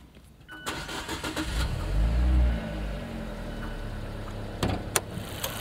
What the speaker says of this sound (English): Let's start the engine, pop the hood, take a look at the engine.